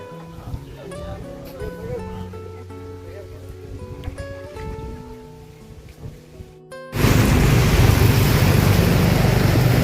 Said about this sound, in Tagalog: grabe, pumuhos na yung ulan